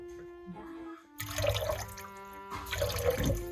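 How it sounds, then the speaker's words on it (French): Vinegar is poured into a bowl of water for washing vegetables, giving two short bursts of close liquid splashing and trickling separated by a brief lull, over a faint steady hum. "je vais verser quelques gouttes de vinaigre pour laver"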